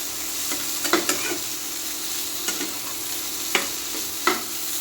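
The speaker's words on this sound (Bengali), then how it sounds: "ভালো করে ভেজে নিয়ে একটু কষে নিই" Boiled potatoes being fried and stirred in a pan, with a steady soft sizzle throughout and a few distinct scraping stir strokes of the spatula at irregular intervals, close and moderately loud.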